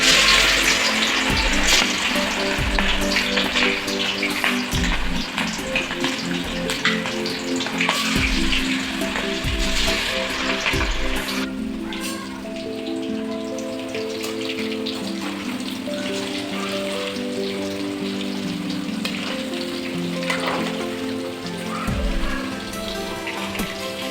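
Chicken kebabs frying in hot oil for kolii sukka kebab, a steady dense crackle and hiss with bubbling, close and fairly loud throughout, with no talk.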